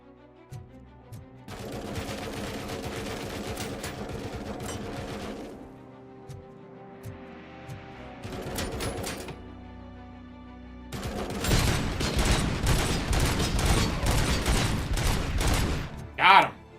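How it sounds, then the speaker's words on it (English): Heavy machine gun fire in a Robocop video game, long rattling bursts of rapid shots separated by short lulls, the last burst loudest and densest, ending on a sharp single blast, with no talk. "Who's got a heavy machine gun out there?"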